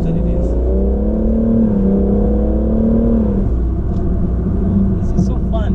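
A loud BMW M140i in South Africa idles with a deep, rumbling exhaust, then its revs swell and hold before settling back, close up while people chat over it.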